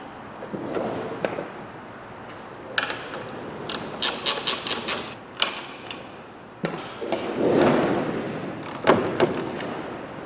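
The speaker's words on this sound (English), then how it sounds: "We've got to undo these three 12mm nuts" A ratchet undoes the three 12mm nuts on a Toyota Avensis front suspension leg, with bursts of rapid clicking between pauses, metallic knocks and handling noise close by, and no talk.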